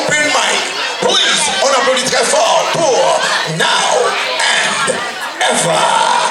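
A crowd of children and families cheers and yells loudly for a young performer at a kids' open mic in a library hall, a dense sustained roar with whoops rising and falling throughout.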